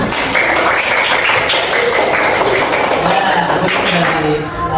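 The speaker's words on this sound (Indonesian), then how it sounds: "Terima kasih, tepuk tangan." Classroom students clap after a group presentation, an uneven burst of hand claps and taps from many pupils with children's voices chattering throughout.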